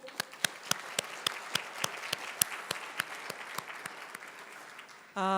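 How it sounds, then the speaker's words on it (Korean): Audience applause at the opening of the 2023 Korea Gender Equality Forum, a dense run of clapping with sharp individual claps standing out, steady for about five seconds before a louder sound cuts in at the end. "다 같이 한번 박수 치시죠."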